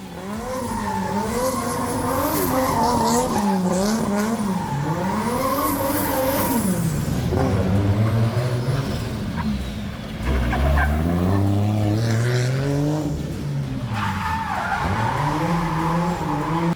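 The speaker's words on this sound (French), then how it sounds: "Des véhicules de démonstration, dont des voitures de drift, ont assuré le show entre chaque passage." Drift cars skid through a motorsport demonstration show, loud tyre squeal sweeping up and down in long wavering slides over steady roaring engines, continuous and close.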